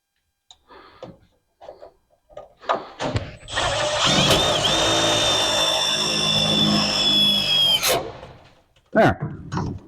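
A power tool whirs in one sustained burst of about four seconds, driving a self-tapping screw into the frame rail of a 1968 Chevrolet G20 van to mount a relay. Scattered handling knocks and shuffles come before and after.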